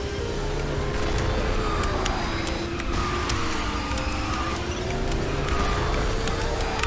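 A kart drifting in the racing video game KartRider, with a continuous loud engine whine that wavers in pitch through the slide and sharp crackling clicks layered over it.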